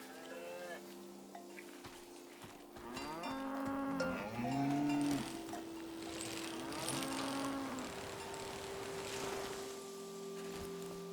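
Cows mooing in the video game Season: A Letter to the Future, several long, drawn-out lowing calls overlapping near and mid-distance, over a soft ambient background.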